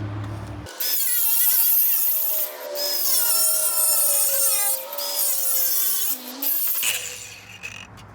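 A power tool cuts through a replacement window panel for a Jeep WJ, ZJ or XJ, throwing sparks; a loud, steady high-pitched whine holds for about six seconds with brief dips, then stops.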